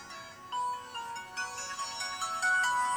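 An LG Optimus G smartphone plays its boot-up tone, a bright electronic chime of several stacked melodic notes rising in steps over about three seconds, clear and close with no talking.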